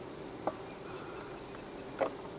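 Honey bees buzzing around a hive, a soft continuous drone in the background with two brief louder passes as bees fly close.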